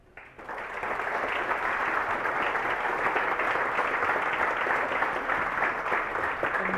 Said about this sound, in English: Go on, clap, Enege. Come on, keep clapping.